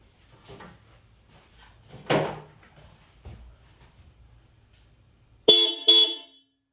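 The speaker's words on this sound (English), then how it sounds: "we're gonna do a horn test for the new Hella horns" Two loud blasts of new Hella car horns sound in quick succession after a stretch of quiet background noise and a few faint knocks.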